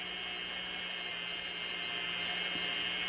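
Power tool buffing a polymer clay pendant, held lightly against the piece: a steady, continuous high-pitched whir at moderate level, unbroken throughout with no talk.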